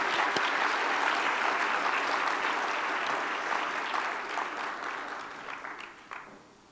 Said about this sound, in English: So we'd like to give you a round of applause and congratulate you.